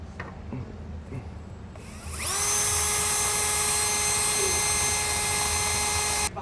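After a quiet start, a power drill spins up and whines loudly and steadily as it bores through the passenger-side vehicle frame of a 2019 Nissan to fit a Curt trailer hitch receiver.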